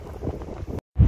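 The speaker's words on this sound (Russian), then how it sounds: "Очень ветер сильный здесь такой." Strong wind buffeting a microphone outdoors during travel between Germany and Kazakhstan, a broad continuous roar that cuts out briefly near the end and returns with a loud gust.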